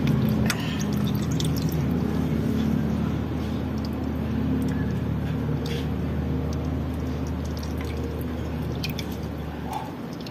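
Oil drips from a Suzuki Celerio Gen 2 during an oil change, a series of soft, irregular drips over a low steady hum of background noise.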